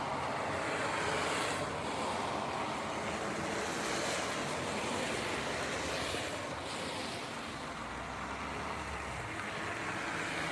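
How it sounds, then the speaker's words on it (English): A partly frozen waterfall, still trickling a little, gives a steady broadband rush outdoors in winter, with wind buffeting the microphone and no voices. "The waterfall is frozen, but mostly frozen. I see it's running a little bit."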